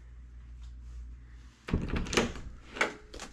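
An interior door in a Florida vacation rental is opened, giving a few close knocks and a clunk of the latch, then rattling and thumping as it swings, loud against a quiet room with a low hum.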